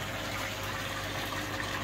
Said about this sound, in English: Crikey, I've got some water pumping through there, haven't I?